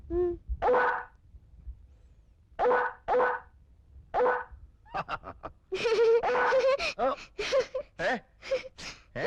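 A man imitates a dog barking with a voice, giving a series of short, loud, gruff bark-like bursts in an uneven rhythm, close to the microphone, with a few voiced yelps and lively chatter mixed in toward the end.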